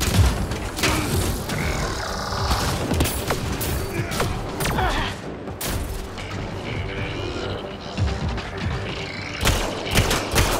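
Pistol gunfire in the video game Mass Effect Andromeda, a run of sharp shots in quick bursts over a dense battle mix of other weapons and explosions, loud throughout with a voice speaking now and then.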